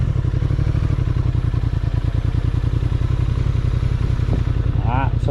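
A 2025 Honda Transalp motorcycle rides on fresh pavement, its engine note steady and close with pulsing rumble. Near the end a few rising whistle-like tones cut through, and faint voice-like sounds blend with the engine.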